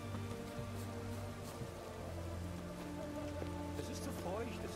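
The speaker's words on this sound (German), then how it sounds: "Es regnet, natürlich ist es da feucht." Rain falls in The Witcher 3 game world, a steady hiss mixed with sustained tonal game music and scattered droplet ticks, heard close and continuous throughout.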